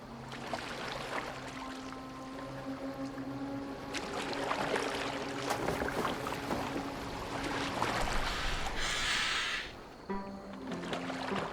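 A boat glides through water in Assassin's Creed Valhalla, with a continuous swishing, lapping wash of water against the hull and faint tonal sounds underneath, held at a steady moderate level.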